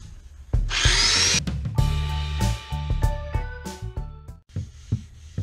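A power sander works a wooden end grain cutting board, close and loud: a harsh grinding burst followed by a whining, droning motor that rises and dips, with no talk.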